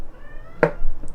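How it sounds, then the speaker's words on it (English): A single short meow from a cat, close and clear, heard in a kitchen where shortbread is being sliced, with faint background noise and no speech. "I'm a very talkative cat."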